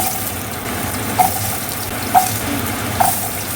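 Ingredients for Filipino kaldereta frying in a pan, giving a steady, even sizzle with three brief, sharp pops or clinks spaced about a second apart.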